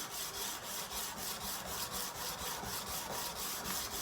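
Sandpaper wrapped on a block is drawn back and forth along a knife blade for a satin finish, a close, even, rhythmic rasping of about a dozen regular strokes with no talking.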